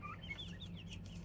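Backyard mixed-breed chickens cluck softly in a farm yard, faint high chirpy calls over a steady low background hum.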